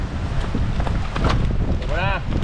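Strong, cold wind buffets the microphone at a work camp, a steady broadband rush with gusts throughout, and a voice briefly rises near the end.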